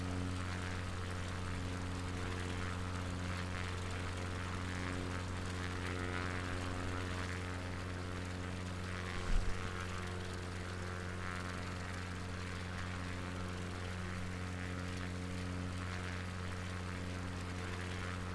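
A small propeller aircraft comes in to land at a small coastal airfield, its engine giving a steady, droning hum heard from inside the cabin with a single brief bump partway through.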